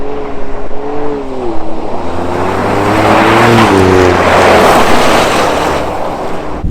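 A WRC rally car at Rally Sweden tears across snow and ice at high speed, its engine loud and steady with rising, shifting revs and a broad wash of spray and wind noise building toward the end.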